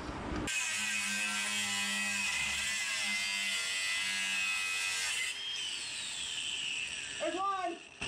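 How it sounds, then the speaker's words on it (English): An angle grinder with no guard cuts through a loose exhaust pipe on a 2001 Jeep XJ 4.0 build, a loud continuous high whine with a shift in pitch partway and a brief voice near the end. "let Matt cut stuff with the grinder"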